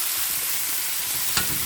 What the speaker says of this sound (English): So we will saute this until it's fragrant and all the spices are infused wonderfully.